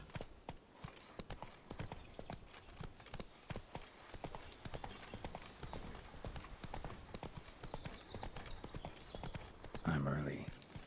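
Roach, the horse in The Witcher 3, gallops with rapid, rhythmic hoof clip-clops that run steadily throughout. Someone speaks briefly over the hoofbeats, and a horse whinny comes near the end.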